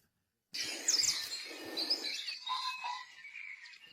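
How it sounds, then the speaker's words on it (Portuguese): Captured wild birds, mainly European robins and blackcaps with a few other small songbirds, held during a ringing study in Malta. They give a busy cluster of high, thin chirps and tweets close by after a short silence, with no talk. "Eu trouxe vários pássaros, principalmente pisco de peito ruivo, mas também tem algumas tout negras, sardas e uma de cabeça preta."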